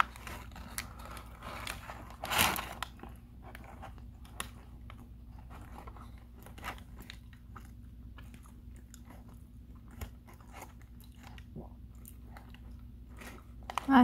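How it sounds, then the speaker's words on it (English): Mouth-open chewing of Taco Bell food, soft wet crunches and smacks repeating steadily and close, with one louder burst early on; no talking. "I casually chew with my mouth open"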